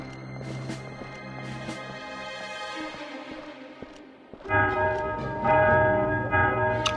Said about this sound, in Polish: Teraz słyszę katedrę dzwon